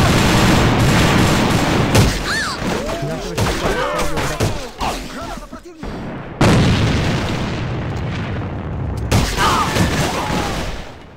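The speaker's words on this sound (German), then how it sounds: "Dieser Amos-Typ hat gerade durch die Wand geschossen" Gunfire from the online shooter Alliance of Valiant Arms: bursts of rifle shots and booming blasts in rapid volleys, loud and dense throughout, with a person talking over the shooting.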